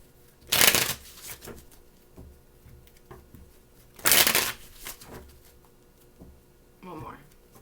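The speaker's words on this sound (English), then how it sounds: "Four shuffles, three more." Tarot cards shuffled by hand in two loud riffling bursts a few seconds apart, with softer card taps between and a brief voice near the end.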